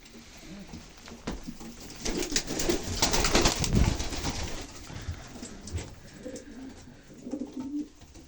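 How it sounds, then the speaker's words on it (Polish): Pigeons coo in a loft at night during the mating season, low soft throaty calls repeating under a faint hum, with a brief burst of fluttering and rustling in the middle, close and fairly quiet. "Gołębie się łączą."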